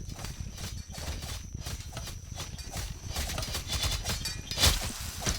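Horse hooves clopping in the medieval battle game Warlord: Britannia, a steady patter of hoofbeats under battle noise with a louder hit near the end.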